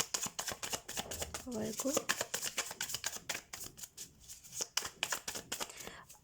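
Tarot cards are shuffled and drawn for a reading, making rapid, soft riffling and flicking that runs throughout while someone speaks Hindi over it.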